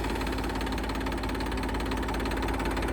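A tractor engine, one of a New Holland and a Mahindra being compared, runs at a steady idle, a loud, continuous low rumble with a rhythmic knocking throb and no break or change in pace.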